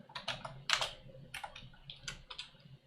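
Short command typed on a computer keyboard, a quick uneven burst of close, crisp key clicks with small pauses between them.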